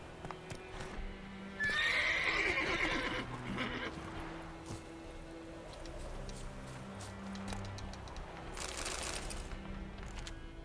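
A horse in The Witcher 3 gives one loud whinny near the start, with hooves clip-clopping and game ambience continuing afterward.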